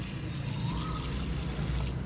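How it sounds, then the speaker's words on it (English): Tap water pours steadily at good pressure after an inline V-Guard booster pump is set to auto mode, a constant low rushing stream with no break. "Now when we switch on the tap,"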